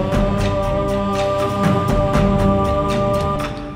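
Single held sung note droning steadily on top of a music track, a sustained tone running under a regular pulsing beat, fairly loud and continuous without a break.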